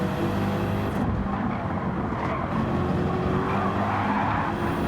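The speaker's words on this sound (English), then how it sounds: "Hoyos definitely sliding a lot more compared to the BMW here." Race cars in the Gran Turismo 7 video game during a World Series exhibition race, with loud continuous engine roar and tires squealing and sliding through a corner.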